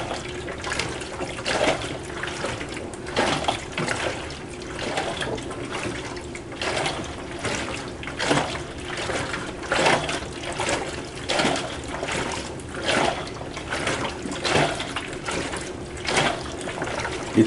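A WonderWash manual washing machine sloshing water inside its drum, a steady rhythmic swish and slosh repeating roughly every second, close and moderately loud with no talk.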